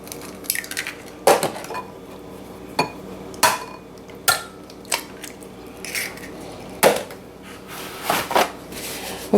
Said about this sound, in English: I will first start by putting the eggs in there, and I will crack them